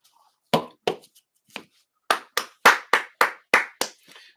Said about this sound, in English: Quick round of applause there, people.